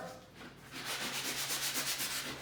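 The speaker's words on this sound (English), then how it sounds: "So now we're just going to sand it down to the surface" Sanding a patched hole in a wall, rhythmic back-and-forth scratchy rubbing strokes, close and fairly loud, quickening into regular pulses after a brief start.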